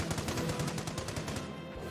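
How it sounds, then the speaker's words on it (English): Rapid, evenly spaced bursts of gunfire from a World War II real-time strategy battle in Company of Heroes, loud and continuous with no voice over it. "that mortar's beginning to fire again, causing some positional issues"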